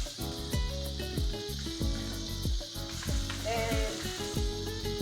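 Garlic and ginger sizzle and fry in a pan alongside crushed cumin, a steady close crackling hiss with rhythmic stirring scrapes throughout.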